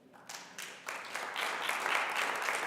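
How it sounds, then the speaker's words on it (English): Scattered clapping in a city council chamber during a regular meeting quickly swells into a steady round of applause from the room, heard at moderate distance. "Let's keep in mind that this is a council chamber and applauding is not necessarily something that we do."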